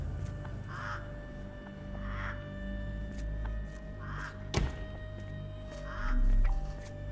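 Caged mynah birds in a Sherlock Holmes video game give several short, evenly spaced calls over a steady background hum, with one sharp click partway through.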